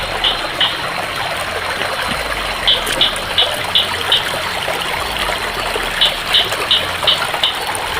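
A shallow creek with little water flows steadily, a constant near-field wash of running water throughout, with faint repeated chirps or clicks above it.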